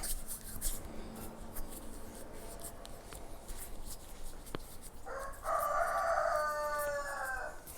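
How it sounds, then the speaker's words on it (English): A rooster crows in a village, one clear cock-a-doodle-doo call arriving late, moderately distant, over a quiet background with faint rustling and a brief earlier fowl sound. "Can you hear that? The cocks. I'm in the village."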